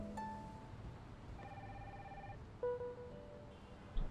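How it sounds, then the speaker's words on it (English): An old-school phone rings in the game Stardrop, faint and distant, with intermittent tonal trills over a quiet ambient hum and a couple of soft bumps. "Old school phone is ringing."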